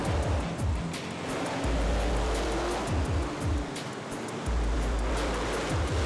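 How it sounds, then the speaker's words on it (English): A sold-out monster truck arena crowd roars in a dense, continuous wash of noise, loud and steady throughout with no distinct voices standing out. "And introductions here, plenty of noise, enormous crowd."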